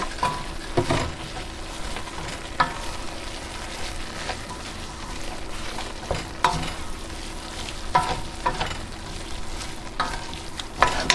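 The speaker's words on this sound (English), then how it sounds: "We're going to throw in the mushrooms." Mushrooms sizzle steadily in a hot frying pan while a utensil stirs them, with occasional sharp scrapes and clicks against the pan, close and continuous with no speech.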